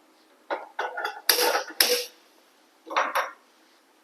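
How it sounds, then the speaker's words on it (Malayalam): A cheenachatti frying pan is set down on a stove in a home kitchen, giving a few sharp metallic clanks and scrapes in short bursts separated by quiet gaps. "ചീഞ്ചട്ടി വെച്ച് കൊടുക്കാം കേട്ടോ"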